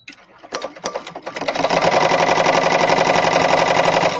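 An embroidery machine stitching a penguin design starts with a few sharp clicks, then settles into a loud, steady, rapid mechanical whirring that runs close and alone to the end.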